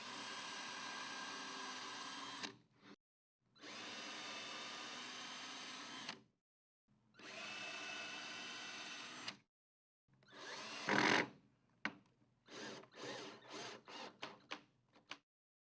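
A power drill drives #8 1-1/4 inch screws into a wooden Murphy bed header in several loud, close bursts separated by silences, followed by shorter choppy spurts.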